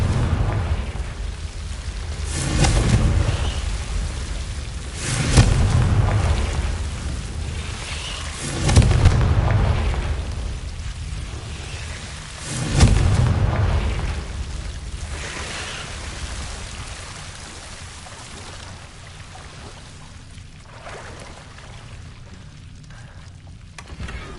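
Confringo blasting spells set off explosions in the Hogwarts Legacy video game: four or five deep, booming blasts about every three seconds, each swelling and then fading, with a quieter rumble toward the end.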